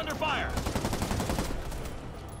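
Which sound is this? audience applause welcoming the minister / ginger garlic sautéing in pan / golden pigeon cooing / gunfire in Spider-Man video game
gunfire in Spider-Man video game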